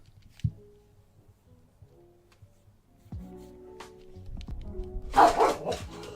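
A dog outside barks faintly at first, then a louder cluster of barks rises near the end over a quiet background with occasional soft knocks.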